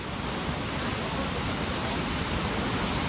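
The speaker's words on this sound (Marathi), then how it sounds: "टनल मधनं पाणी निघतंय. कसला फ्लो आहे." Water gushes out of a tunnel into a waterfall in the Vagamon hills, Kerala, a dense, steady, full-band roar that stays loud and unbroken throughout.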